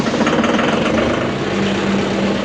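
A tractor engine idles steadily while warming up on a freezing morning at a horse farm, a continuous close, low rumble with no talk over it.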